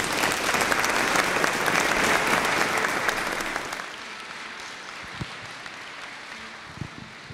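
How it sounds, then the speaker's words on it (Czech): An audience at a benefit concert in the Basilica of All Saints breaks into loud, dense applause that rings through the church, then fades after a few seconds into quiet with occasional knocks and shuffles. "Potlesk pro vás, prosím."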